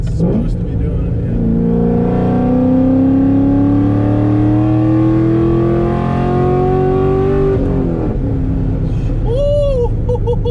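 A cammed C6 Corvette accelerates hard, its loud engine note climbing steadily for several seconds, then briefly shifting before easing off, heard from inside the car with talk over it.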